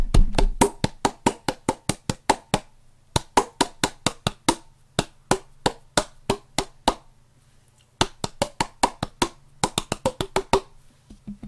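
Cupped hands clapped with an air pocket between the palms give sharp, hollow popping claps, played close and alone in quick rhythmic bursts, some in fast runs like a tune, with short pauses between groups.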